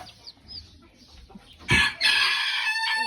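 Chickens and young chicks cluck and squawk close by on a farm with turkeys, geese and ducks, with a sudden loud burst followed by a sustained run of clucking over quiet farmyard background.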